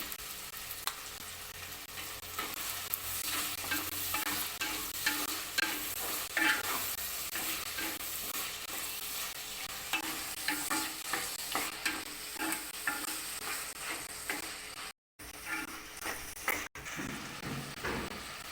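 Onions and tomato sautéing in a pan for a Chettinad chicken gravy: a continuous sizzle under repeated rhythmic scrapes of a spoon stirring, close and fairly loud, with two brief dropouts near the end.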